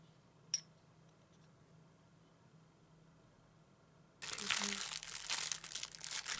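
Disposable plastic bags crinkle and rustle loudly up close, a dense, continuous crackling that bursts in after a few seconds of near silence and keeps going to the end.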